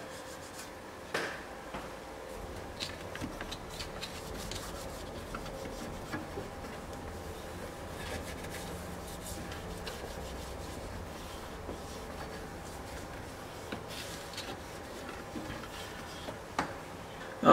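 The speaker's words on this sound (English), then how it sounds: "make sure that this area here is clean, okay? So just wipe it down." A swab wipes down a car's engine bay area, a faint, close, continuous soft rubbing with small scattered ticks and bumps.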